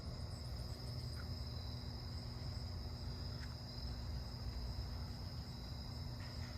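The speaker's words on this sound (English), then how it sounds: "I hear a southern ground cricket." Southern ground cricket chirping in a suburban neighbourhood at night, a faint high insect trill over a low steady background hum, distant and quiet with no voices.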